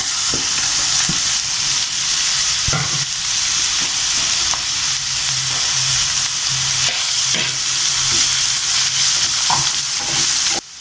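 Carrot and capsicum sizzle and hiss steadily in a hot pan for leftover chapati noodles, a loud continuous frying crackle with occasional scrape-and-stir knocks throughout.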